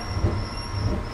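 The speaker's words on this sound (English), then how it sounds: "stop at the Pearl Arts District station, where I'll transfer to off of this Green Line train" A DART Green Line light rail train running as it slows for the Pearl Arts District station, with a steady low rumble of wheels and motors and faint rail clatter, heard close from on board with no talking.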